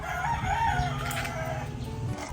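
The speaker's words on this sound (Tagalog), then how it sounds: "Kainin natin itong mga manok natin kay Ilocano kasi 24 hours silang hindi kumain." Chickens and a rooster on a flooded farm after a typhoon in Ilocos, with a crow rising over steady clucking and low murmuring close by, no speech.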